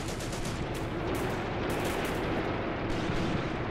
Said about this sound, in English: This guy's laying it on with a machine gun.